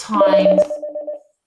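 Telephone tones ring out in a classroom at school: a steady pulsing electronic beep train with a few quick repeated pips trailing off, heard briefly alongside a short spoken word.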